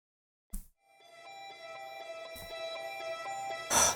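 A copied afro house synth riff: a bright, sustained, tonal line with rhythmic pulses running steadily for a few seconds, opened by a short thump and ending in a louder burst.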